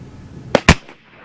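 A .50 caliber air rifle fires two sharp, loud cracks in quick succession, the second slightly stronger, followed by a brief decay into quiet.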